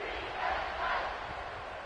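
A stadium crowd in College Football 26 keeps up a steady, swelling roar of cheering, a broad wash of many voices at moderate volume that rises and falls slightly throughout.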